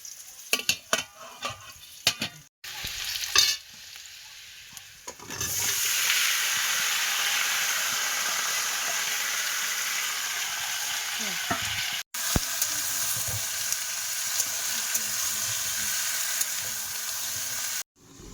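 Vegetables fry in a wok on a gas stove. A few seconds of scattered clatter lead into a loud, continuous sizzle, with the light scrape of stirring running through it.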